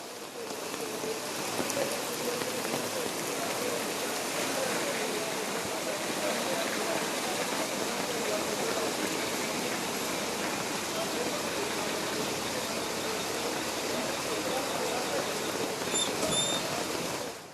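Heavy monsoon rain pouring down steadily in Udupi during flooding, a dense, even, continuous hiss of downpour that holds at the same level throughout.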